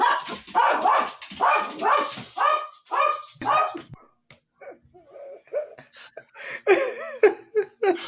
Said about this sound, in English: The dog is clearly very excited about this.